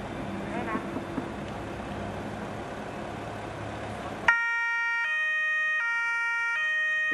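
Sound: sirens of police patrol cars

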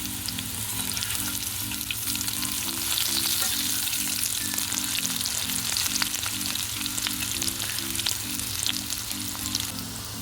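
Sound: bitter gourd frying in a pan

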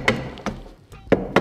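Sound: tapping sheet metal chimney flashing lightly with a hammer

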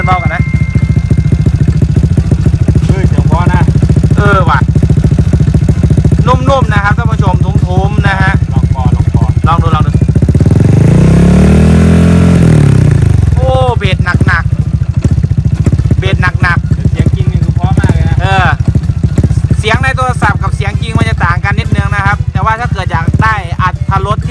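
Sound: motorcycle engine revving to rev limiter

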